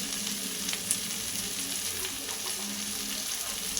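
Green beans (borboti) fry in a pan, a steady close sizzle with faint stirring clicks throughout and no voices.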